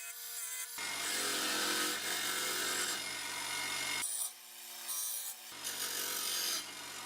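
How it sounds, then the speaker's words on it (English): Rust being scrubbed off BMW E30 mounts, with loud, close abrasive rubbing and rasping in long strokes broken by brief pauses and a few quieter moments. "I removed the rust from the mounts themselves along with one that sits above the glove box."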